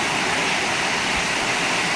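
Waterfall in Australia's Northern Territory roaring steadily as a dense, continuous rush of falling water, loud and close, with no voices over it.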